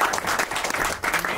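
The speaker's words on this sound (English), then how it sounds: "if we could please give him a big round of applause" Audience applause fills an award show hall, a dense steady clapping from a large crowd that is loud and continuous throughout.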